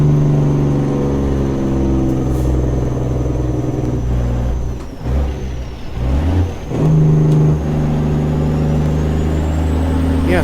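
Truck towing a Fruehauf tanker in American Truck Simulator, its engine rumbling low and loud at steady cruise, easing off briefly midway before pulling again, with a faint whine overhead and no talk.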